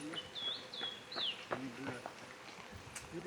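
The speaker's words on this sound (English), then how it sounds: "You start to hear the birds as well." Several short bird chirps and whistling calls ring out against soft outdoor ambience in Cannon Hill Park, England, with faint rustling between them.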